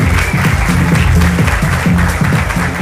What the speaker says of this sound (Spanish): Fuerte el aplauso para Silva Josías.